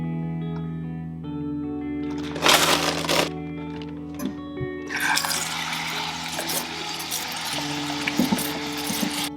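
Elderberries get a quick rinse, with running water splashing and pouring in bursts alongside clinks and handling sounds, close and moderately loud.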